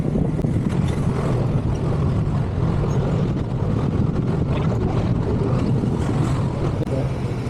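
A vehicle is driven to a passenger pick-up point, producing a loud, steady rumble of engine and road noise with wind buffeting throughout and no speech.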